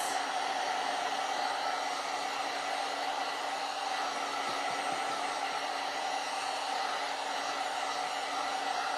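A heat gun drying paint on a piece of furniture, blowing with a constant even whoosh that runs unbroken throughout, close and steady with no talk.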